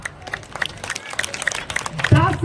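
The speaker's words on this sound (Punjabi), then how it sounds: "ਤਾੜੀਆਂ ਲਾ ਦਿਓ ਜ਼ੋਰਦਾਰ ਤਾੜੀਆਂ ਲਾ ਦਿਓ" Scattered audience clapping at a Ram Leela stage night builds into brisk applause over an amplified announcer urging the crowd on, with a louder swell near the end.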